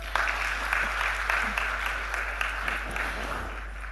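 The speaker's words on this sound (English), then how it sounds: "can we give her a big round of applause?" An audience at an event honoring women in aviation applauds steadily for a speaker, with sharp individual claps standing out over a low steady hum.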